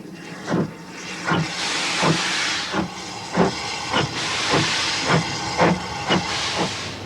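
A steam train gives off rhythmic hissing bursts of steam, about a dozen regular chuffs over a continuous loud hiss, close by with no talking.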